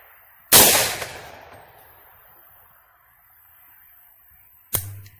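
Two sharp gunshots from a Palmetto State Armory 7-inch Marauder pistol in 300 Blackout firing subsonic loads, about four seconds apart: a loud nearby crack with a lingering tail, then a second shorter report.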